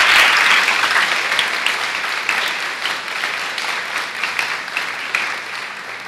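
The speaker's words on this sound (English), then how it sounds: "Girls, join us in acknowledging your parents with a lusty round of applause." Applause from the audience at a girls' high school speech day and awards ceremony, a dense sustained round of clapping that starts loud and slowly tapers, with no talk over it.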